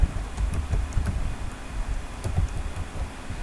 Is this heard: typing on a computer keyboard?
yes